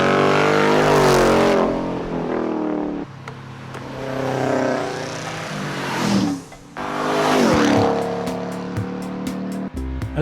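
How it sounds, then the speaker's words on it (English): Cars leaving a Cars & Coffee meet roar past one after another, loud and close, engines swelling and fading with a couple of sharp revs and gaps between passes. "As the cars roared past and we made our way back to our own"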